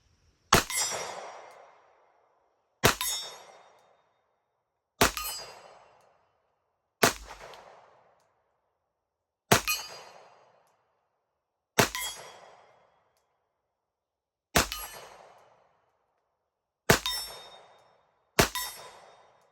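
Glock 21 pistol shots fired at steel gongs 25 yards away: nine sharp, loud reports spaced about two seconds apart, each followed by a bright metallic ring that fades quickly, with no talking.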